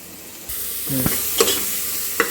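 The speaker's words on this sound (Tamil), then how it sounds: "வெங்காயம் நல்லா வதங்கிடுச்சு" Onions sauté in a pan for mutton curry: a sizzle switches on sharply and holds steady, with a few spoon scrapes and knocks against the pan, close and clear.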